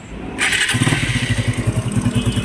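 A motorcycle engine at a repair shop, freshly refurbished, cranks and fires up close, then settles into a steady, throbbing idle with a regular pulsing beat.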